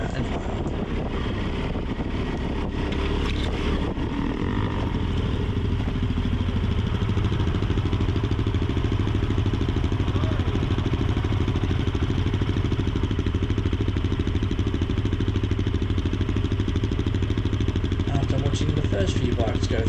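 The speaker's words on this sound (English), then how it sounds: "Watching the first few bikes go through this muddy puddle" Motorcycles grinding through a muddy puddle on a narrowing trail, a steady engine drone with wind buffeting the microphone, clatter early on, and a rider's voice over it.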